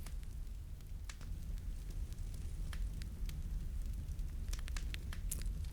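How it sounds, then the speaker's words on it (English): Fireplace fire crackling steadily, with scattered sharp pops and snaps over a soft continuous low rumble, close and fairly quiet, no voices. "Computer, increase the sound of the fireplace,"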